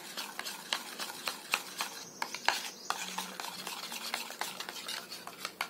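A spoon stirs a tomato and honey face paste in a bowl, giving a steady run of quick, close scraping clicks with no voices.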